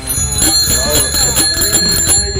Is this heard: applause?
no